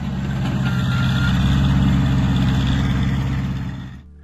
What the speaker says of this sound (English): sound of the four-cylinder engine of the Cub Lo-Boy